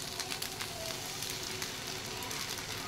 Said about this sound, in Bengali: আর এখানে আমি সয়া সস আর টমেটো সস মিশিয়ে রেখেছি। চলো এবার এটা দিয়ে দেবো